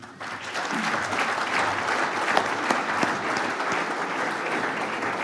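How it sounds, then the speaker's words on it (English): Sustained audience applause at a red meat industry forum, a steady dense wash of many hands clapping that holds evenly loud throughout with no speech over it. "keep the applause going for the panel"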